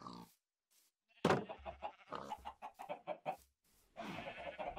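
Cartoonish Minecraft chicken clucks come in a burst of short, bright squawks, then pause and resume in a busier run near the end.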